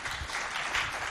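Brief burst of crowd applause for a jury at a school competition event, continuous clapping throughout with no voices.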